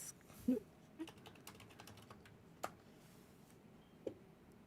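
Sparse, quiet keyboard taps, a few isolated clicks spaced irregularly over a low background hiss, no talking.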